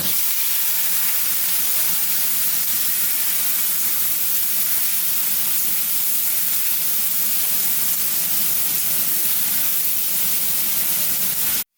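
Salt-and-turmeric marinated prawns sizzle steadily in hot oil in a frying pan, a loud, continuous close hiss with no pauses.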